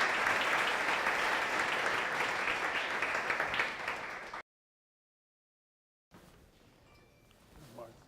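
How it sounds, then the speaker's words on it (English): An indoor audience at a community engagement night applauds for the Rochester Police Department, with sustained dense clapping for about four seconds before an abrupt cut to near silence and faint room noise. "give a round of applause to the Rochester Police Department for being here with us tonight"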